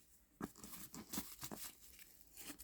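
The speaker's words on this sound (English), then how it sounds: "So let me finish unwrapping it." Packaging around a Dooney & Bourke handbag is unwrapped, giving faint, close bursts of tearing and crinkling paper in a few quick irregular rustles.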